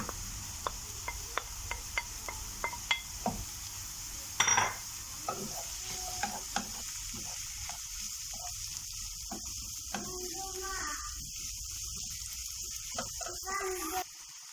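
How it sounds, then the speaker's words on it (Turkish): Onions with green and red peppers sizzle softly in a pan while a spoon clicks and scrapes repeatedly, with a quiet voice briefly talking toward the end. "Kavrulan soğanıma 2 tane yeşil biber, 1 tane kapya biberimi de ekliyorum."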